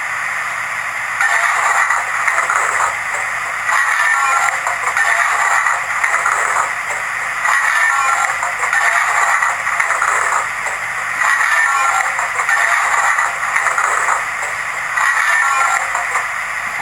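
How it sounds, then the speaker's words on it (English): A looping coal-shoveling sound effect from a Hornby BR Lord Nelson Class model steam locomotive: a steady scraping, gritty noise that pulses in regular repeating strokes and plays continuously at a moderately loud level with no talking. "Function 7 is the coal shoveling. Now, unlike the previous sounds, this one plays until you basically stop it again."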